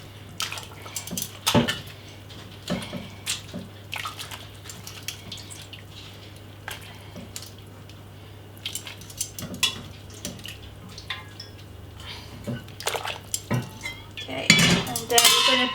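Chicken bones clatter into a pot for broth. Scattered clinks and knocks of bone against metal come close, with a faint steady hum underneath and a louder cluster of clatter at the end.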